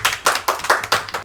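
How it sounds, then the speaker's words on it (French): Audience applause for the girls, heard as a short run of about six distinct, fairly close hand claps at an even pace. "Eh bien on peut les applaudir"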